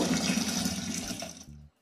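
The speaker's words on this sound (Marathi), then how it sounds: "नळाचे पाणी पिण्यासाठी चाळणीने गाळून ड्रमात भरून घेऊ" Tap water gushes steadily into a drinking-water drum for a short burst, a loud rushing pour that cuts off abruptly near the end.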